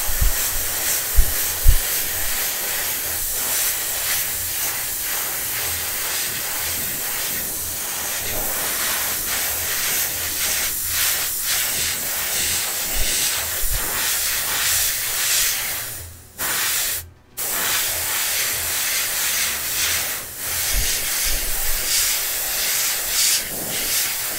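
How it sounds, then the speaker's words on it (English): Trigger-action airbrush spraying paint onto parts of a 1/14 scale Tamiya Volvo FH12 RC truck kit, a steady close hiss of air running almost continuously with brief cut-offs near the end, no talking. "I tend to use this airbrush a lot."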